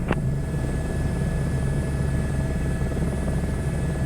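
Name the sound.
Airbus helicopter in video game Microsoft Flight Simulator 2024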